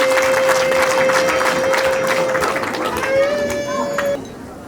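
A wedding crowd breaks into applause for the couple's new name, a dense burst of clapping over a sustained musical tone, with voices in the mix before it fades out.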